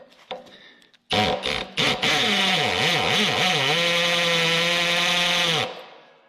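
A power drill in drill mode spins up abruptly with a few short bursts, then whines steadily at high speed for several seconds before cutting off.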